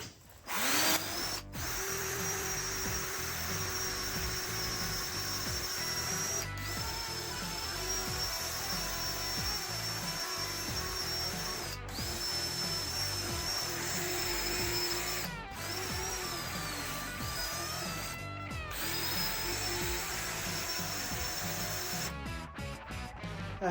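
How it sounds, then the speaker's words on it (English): A power drill spins a wire brush against an LS engine being cleaned for a C30 swap, a steady high metallic whine and scrubbing rasp that runs on with a few brief stops and restarts. "I hate wire brushing, but this is way better than sanding."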